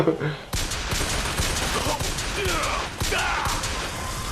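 Gunfire from the video game Bioshock Infinite, a sharp opening shot followed by a dense burst of repeated shots and impacts, loud and close, with a game voice partly mixed in.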